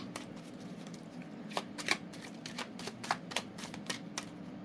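Tarot cards are shuffled close by, a soft steady riffle broken by several crisp slaps and flicks as the deck is handled, heard alone and fairly quiet.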